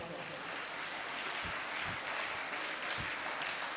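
Crowd applause, a soft continuous patter of many hands clapping, heard faintly from a distance.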